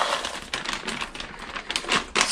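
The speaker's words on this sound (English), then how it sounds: "And we'll pour them into the pan." Small hard pieces of frozen mushroom medley rattle and clatter continuously into a pan for a couple of seconds, a dry patter with bursts of louder tumbling.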